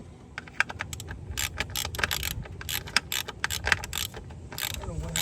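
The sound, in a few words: wrench tightening a 10mm bolt on a manifold pressure sensor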